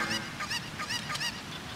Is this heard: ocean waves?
no